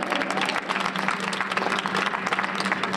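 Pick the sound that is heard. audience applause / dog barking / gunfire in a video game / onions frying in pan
audience applause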